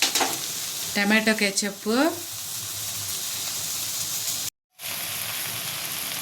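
Vegetable Hakka noodles with cabbage sizzle and hiss steadily in a pan over a high flame, while someone speaks briefly over the frying; the sound drops out for a moment near the end.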